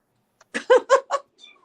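A kitten mewing in a short run of four quick, high, close calls followed by faint trailing squeaks.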